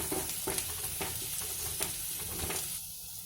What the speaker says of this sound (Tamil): கட் பண்ணி வச்ச 2 வெங்காயத்தை போட்டு நல்லா வதக்கிக்கோங்க